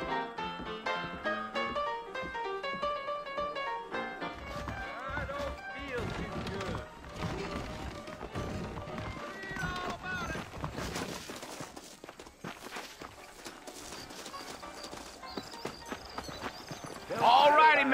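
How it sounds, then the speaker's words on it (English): Saddled horses clip-clop in Red Dead Redemption, with a steady run of hoof falls heard beneath game music and character dialogue, growing louder near the end. "I got the horses saddled up and ready out front."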